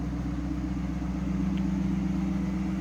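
A 2004 Cadillac XLR idles, heard from behind the car, as a steady, even low engine rumble with no revving.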